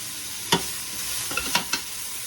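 Carrots and cabbage sauté in a pan for chicken chow mein, with a steady soft sizzle and a few sharp scraping stirs of a utensil against the pan, close and without voices.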